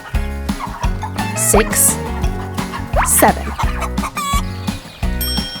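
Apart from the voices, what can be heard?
chickens clucking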